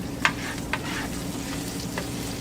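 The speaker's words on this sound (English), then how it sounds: "I'm gonna throw my garlic in now." Minced garlic flakes hit a pan of frying onions, giving a steady soft sizzle with a few brief sharp crackles and stirring clicks early on, close and moderately loud with no talking.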